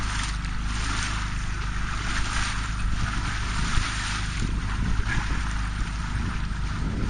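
A motorboat engine drones steadily while the boat runs at about two knots at sea off the Frioul islands near Marseille. Wind rushes over the microphone throughout, with water washing faintly beneath the loud, continuous hum.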